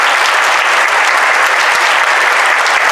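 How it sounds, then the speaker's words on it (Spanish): An audience at a Holocaust remembrance event in Mexico applauds, a dense and loud sustained clapping from many hands. "demos un aplauso a la señora Shulamit Serur de Shrem"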